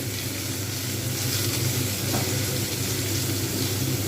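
Snake gourd, potato and bori (sun-dried lentil dumplings) frying in a pan over medium-high heat give a steady, loud, dense sizzle that holds evenly throughout with no talking.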